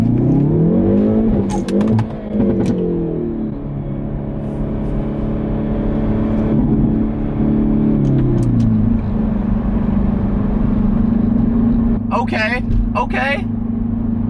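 A Hyundai Veloster N engine revs and accelerates hard in first gear with a deep, rumbling exhaust, pitch climbing and dropping, loud and close throughout.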